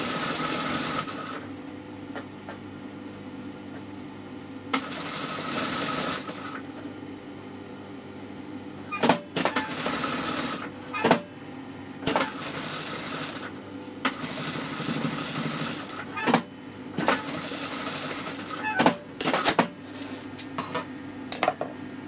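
Close, loud bursts of a sewing machine's rapid motor whir as it stitches fabric at a neckline over interfacing, separated by quiet pauses and a few sharp clicks and clanks.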